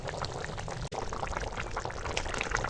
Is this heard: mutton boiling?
yes